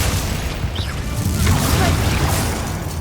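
Confringo blasting curse explosions in the video game Hogwarts Legacy, a dense, loud run of booming blasts and crackling bursts that goes on without a break.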